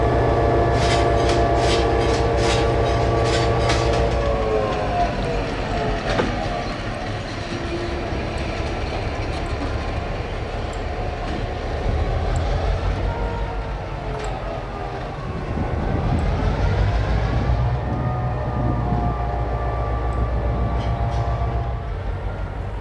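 NX10 freight train with diesel locomotive running toward Chippewa, a loud sustained engine drone and rolling wheel noise with clanking, opening with a horn blast and continuing for over twenty seconds.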